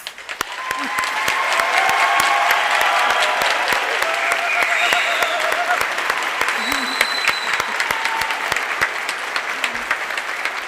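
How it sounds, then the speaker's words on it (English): Loud, long round of applause from the audience at an adult education graduation ceremony, honoring graduates on stage, with cheers and sharp individual claps scattered through the dense clapping. "I think that all these people on the stage deserve one big round of applause."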